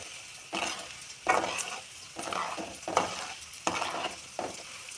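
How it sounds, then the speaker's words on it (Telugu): Dried leftover rice dropped into hot oil sizzles and crackles in bursts, each fresh batch hitting the pan with a loud hiss that fades, close by with stirring between. "మనకి అన్నం మొత్తం బాగా ఫ్రై అయిపోయింది."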